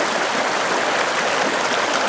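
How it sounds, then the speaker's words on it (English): Fast-moving floodwater rushes through a channel in Utawala, producing a loud, dense and continuous roar of turbulent flow with no pauses and no voices. "You can see how the water is flowing at a very high speed."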